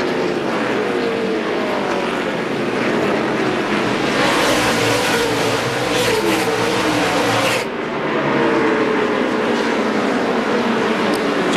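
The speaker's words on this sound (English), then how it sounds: "DW, here they come, rumbling to the green flag. NASCAR's Craftsman trucks at Martinsville." Engines of NASCAR Craftsman Series pickup trucks at a Martinsville short-track race start, a loud continuous massed roar from the pack building as the field charges to the green flag, with no talk over it.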